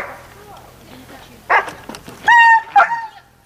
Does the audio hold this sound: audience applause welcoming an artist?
no